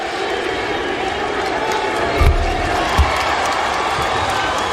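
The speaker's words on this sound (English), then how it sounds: "you hear the crowd chanting MVP" A basketball arena crowd at a Bulls versus Heat playoff game chants and roars in a broad wash of noise, with a couple of thuds and a commentator talking over it.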